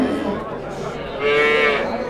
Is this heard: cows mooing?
yes